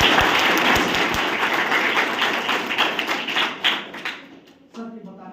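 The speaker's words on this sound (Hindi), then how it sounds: "एक बार जोरदार तालियां हो।" Enthusiastic audience applause at a certificate distribution event, loud dense clapping that gradually thins out and fades to near quiet by the end.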